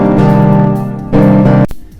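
Sustained synth chords from an FL Studio chord progression with no melody on top, two full block chords held loud and even, the second cut off sharply, nothing else playing.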